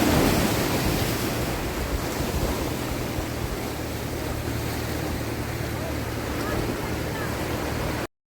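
Sea waves wash continuously onto Thotlakonda beach in Visakhapatnam, Andhra Pradesh, a broad steady roar with wind rumbling against the microphone, no clear voices.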